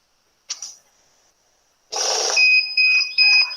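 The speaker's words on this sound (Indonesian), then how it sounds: "mesin ini akan berhenti dan akan memberi tanda berupa bunyi atau alarm" A money counting machine gives a short mechanical whir and click, a pause, then rattles and sounds three shrill electronic alarm beeps in quick succession while checking for counterfeit notes.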